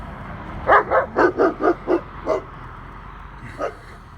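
A dog barks in a quick series of about seven close, loud yaps, then pauses and gives one more bark.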